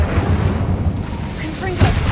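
The Incendio fire spell cast in the video game Hogwarts Legacy, a loud, muffled fiery burst with low rumbling booms and crackle that carries on in bursts across the whole moment.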